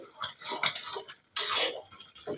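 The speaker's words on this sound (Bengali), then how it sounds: "একটু ঘাটা খুন্তি দিয়ে এরকমভাবে নেড়ে নেড়ে" Spatula stirring mixed vegetable chhyachra in a pan, irregular close scraping and clinking strokes with short pauses between them and one louder scrape near the middle.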